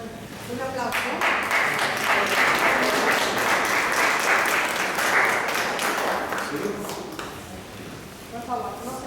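An audience gives a round of applause at a Spanish-language talk about Paraguayan uniforms, sustained clapping from a crowd that swells, holds for several seconds and tapers off as voices return near the end.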